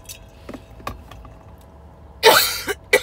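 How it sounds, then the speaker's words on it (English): Someone with bronchitis coughs and clears their throat inside a car: a few short, separated throat sounds, then a louder burst of coughs near the end, close and alone. "This cough"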